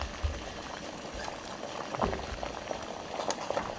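Water bubbling at a steady boil in a steamer pot on the stove, a continuous close, moderately loud seething hiss with small pops and no voices.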